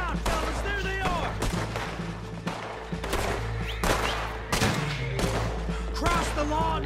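Gunfire in a Western shootout in Red Dead Redemption 2, a series of sharp, loud shots spaced irregularly about every second, mixed with shouted voices and game background sound.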